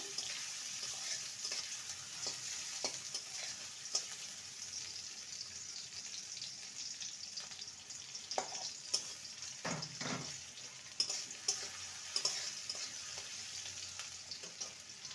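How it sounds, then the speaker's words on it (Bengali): Chopped medium onion frying lightly in hot oil for a cauliflower and egg dish, a continuous soft hiss with scattered small pops and clinks of stirring, fairly quiet and close, no talking. "পেঁয়াজটাকে হালকা ভেজে নেবো"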